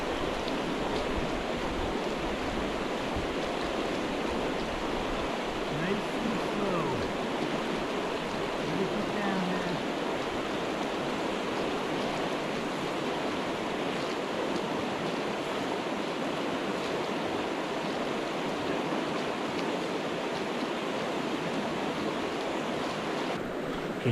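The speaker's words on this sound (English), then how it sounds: "Can you hear the water behind me?" Water rushing steadily along a riverbank, a broad, continuous wash of flowing sound, close and fairly loud throughout with no clear speech.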